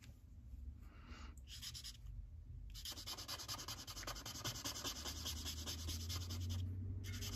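A Sharpie marker scratches and rubs across paper in quick back-and-forth coloring strokes, close and quiet, with brief pauses between bursts of scribbling.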